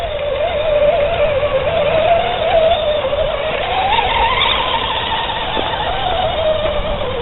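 A Traxxas BackSlash RC truggy with a loose slipper clutch drives outdoors, its electric motor giving a steady high whine that rises and falls in pitch throughout, close and fairly loud.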